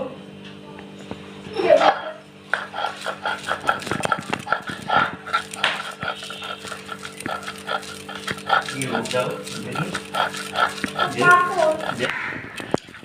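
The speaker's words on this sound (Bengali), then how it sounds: "সর্ষের ফুলটা আমি এখন শিলের উপরে নিয়ে নিচ্ছি বেটে নেব" Mustard flowers ground by hand on a flat sil grinding stone: rhythmic scraping and knocking strokes repeat close by, while someone talks over the work throughout.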